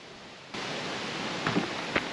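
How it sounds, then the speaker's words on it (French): Steady broadband rush of a waterfall near a campsite in Slovakia, continuous and fairly close, with a couple of faint knocks toward the end. "J'entends le bruit de la cascade juste là"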